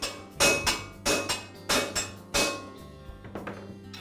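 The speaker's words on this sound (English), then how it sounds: "I'll just tap the bearing onto the shaft" A shop hammer strikes a socket to tap a bearing onto a tile saw blade shaft, with about six loud metallic clanks in an uneven rhythm, then several lighter taps, close by with no talk.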